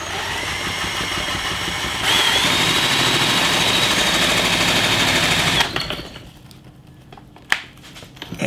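A power drill spinning a ceiling fan motor used as an alternator whirs at a steady high speed, jumps to a louder pitch partway through, then stops and leaves a few faint clicks and a sharp tap.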